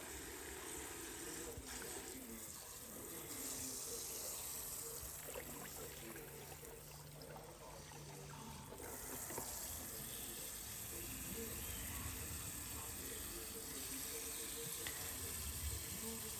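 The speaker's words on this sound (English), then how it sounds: "I'm going to just flip it here a few times, keep rinsing, keep draining the water." Tap water runs steadily into a sink while corned beef is rinsed and drained, a continuous hissing trickle with faint handling sounds throughout.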